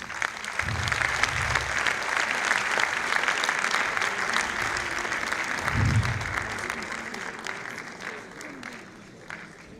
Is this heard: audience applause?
yes